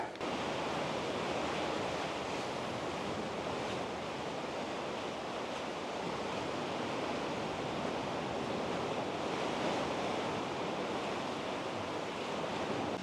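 Sea waves wash steadily against a rocky shore near a sea cave, a loud, continuous broadband surge of surf with faint wind noise and no voices.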